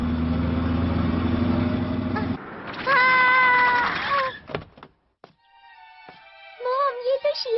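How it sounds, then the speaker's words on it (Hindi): A cartoon cat meows in a short series of high, wavering calls in the middle of a Doraemon episode, with a low engine-like rumble beforehand and quieter cartoon sounds around it. "म्याऊ, म्याऊ, म्याऊ, म्याऊ"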